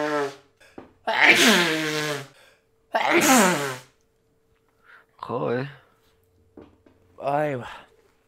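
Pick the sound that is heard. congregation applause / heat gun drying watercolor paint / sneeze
sneeze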